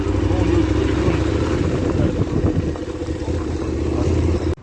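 A Husqvarna SM610 motorcycle with a knocking engine runs loudly nearby, its rough, steady idle with uneven pulses lasting the whole stretch before cutting off abruptly at the end.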